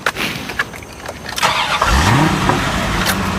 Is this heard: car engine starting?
yes